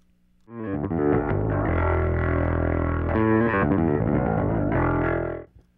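A heavily distorted bass pinch harmonic rings out sustained for several seconds, squealing with a high harmonic, then cuts off abruptly.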